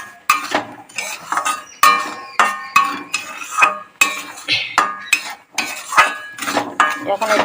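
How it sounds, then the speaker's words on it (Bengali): Dry semolina being stirred and scraped around a hot, dry kadai, with a steady run of repeated scraping strokes and light metallic clinks of the spoon against the pan, close and fairly loud. "আমি এতে এবারে সুজিগুলো দিয়ে ভালো করে ভেজে নেব। শুকনো কড়াই সুজিগুলো ভালো করে নেড়ে চেড়ে"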